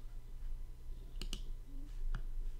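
Computer mouse clicks heard up close and quiet, two quick clicks in succession followed by another single click, against a faint background hum.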